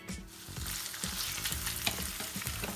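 Chicken with salt and tomato paste frying in a pan, a steady dense sizzle with occasional stirring scrapes and clinks, close and continuous with no talking.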